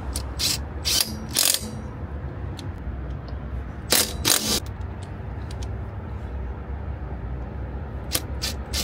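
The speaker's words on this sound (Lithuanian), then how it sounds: "Pakeičiam senus varžtus į juodus." Quick bursts of ratchet wrench clicking as old car bolts are swapped for black ones, several short rapid runs of clicks close up with pauses between, over steady background noise.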